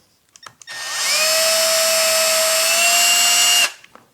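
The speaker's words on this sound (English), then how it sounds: "And I got to remember not to over drill it" A few light taps, then a power drill spins up and grinds steadily into wood for a Kreg kitchen drawer install, about three seconds before stopping abruptly.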